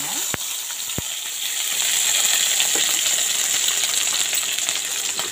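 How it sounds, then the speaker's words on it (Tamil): Baby potatoes fry in oil over a medium flame, giving a steady, even sizzle close up. Two sharp clicks come near the start, and no one speaks. "நம்மளோட பேபி பொட்டேட்டோ நல்லா வதங்கிட்டு இருக்குங்க."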